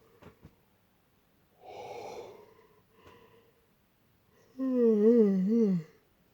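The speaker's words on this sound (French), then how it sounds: "Désolé si je baille les amis" A person yawns near the microphone, first with a breathy inhale, then with a loud, drawn-out voiced yawn lasting about a second, and a few faint breaths and clicks come before it.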